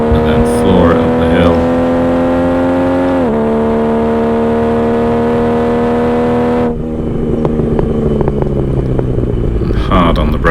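A Triumph TR6 sports car engine revs hard at full throttle during a hill sprint at Mallory Park, climbing steadily in pitch, breaking off for a shift into second gear, then pulling hard again. The engine is loud and close throughout.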